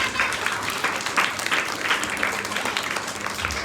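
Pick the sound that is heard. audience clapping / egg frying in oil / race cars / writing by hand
audience clapping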